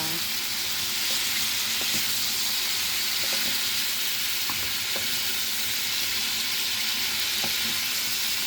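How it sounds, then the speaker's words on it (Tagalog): Shrimp sautéing in a pan, a loud continuous hiss of frying oil with occasional faint clicks and pops, close up and unbroken, no voices over it. "Luluto tayo guys ng hipon na ginisa."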